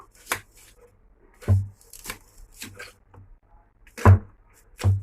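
A knife chopping an onion on a work surface: five or six sharp, separate thuds at uneven intervals, close by, with quiet pauses between them.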